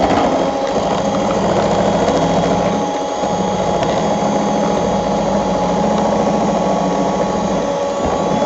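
An electric mixer whips cream at low speed, a steady close mechanical whir with a rhythmic beater rattle that runs unbroken throughout.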